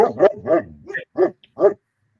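A person imitating a dog, giving a run of five or six close, loud barks and yips in quick rhythm, voiced and slightly whimpering, with nothing else behind them.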